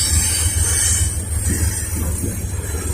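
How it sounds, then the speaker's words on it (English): A Norfolk Southern trash train heading to Roanoke rolls past close by, a loud, steady low rumble of freight cars with a faint high wheel squeal running over it. "We got the trash train heading to Roanoke."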